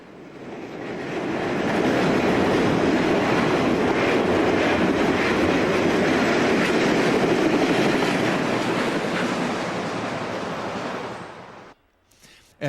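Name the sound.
Conrail eastbound train passing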